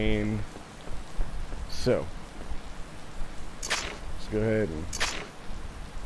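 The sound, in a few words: rain falling in the video game Harvest Moon: Light of Hope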